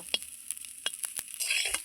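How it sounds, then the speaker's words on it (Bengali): Bottle gourd peel (lau chocha) frying in very little oil, giving a soft sizzle broken by a few sharp scraping stir strokes, close and fairly quiet, with no voices. "আমি লাই চোচাটা কত সুন্দর করে ভেজে নিচ্ছি, একদম তেল কম দিয়েছি।"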